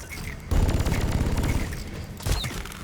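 A grenade going off in Deep Rock Galactic, a sudden loud burst followed by a rumbling, crackling barrage and a second thump near the end, amid busy game noise.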